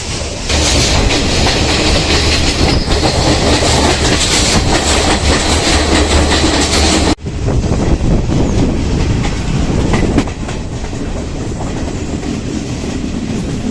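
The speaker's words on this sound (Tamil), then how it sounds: "ட்ரெயின் ரொம்ப ஆடுது ஆனாலும் ஜாலியாக இருக்குது" Loud, continuous rumble and rattle of a train in Sri Lanka running on rails, with rhythmic clickety-clack from the wheels, heard from inside the swaying carriage.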